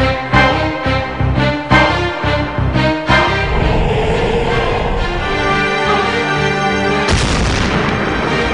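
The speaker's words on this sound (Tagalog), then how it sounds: "a nuclear missile exploded in outer space" A nuclear missile exploding in outer space, heard as a string of deep, loud booms over dramatic orchestral music, with a heavier burst near the end.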